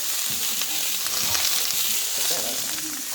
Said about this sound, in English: What you're hearing sizzle is the water hitting the butter.